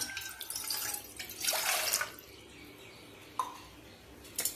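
Water poured from a glass into a pot while making tea, a short splashing pour that tails off, followed by a few faint drips and clinks in a quiet room.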